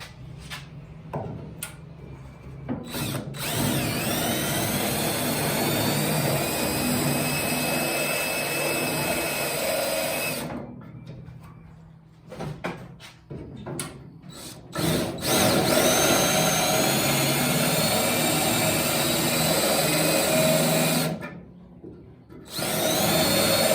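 A power tool cuts through the outer skin of a steel body panel on a classic British sports car, producing a loud, sustained high whine with grinding in long runs broken by brief pauses.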